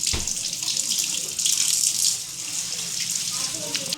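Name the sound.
washing raw mangoes under running tap water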